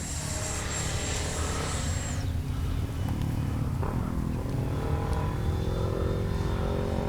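A Freewing F-16 70mm RC jet flies overhead, its ducted-fan whine steady and loud, with a high tone sliding down as it passes and a continuous engine rush throughout.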